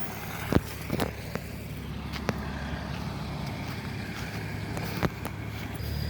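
A Kubota L4018 tractor drives through mud and water with a steady low engine drone, while sharp splashes and clunks break in now and then.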